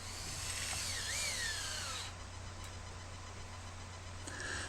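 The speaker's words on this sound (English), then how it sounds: "when securing the bolt into the lock nut, only tighten it down enough so that it is held by the nylon insert." Power drill whirring as it drives a bolt into a nylon-insert lock nut, a continuous close buzzing whine that drops slightly in pitch midway and holds steady to the end.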